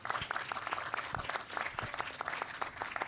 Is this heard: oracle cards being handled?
no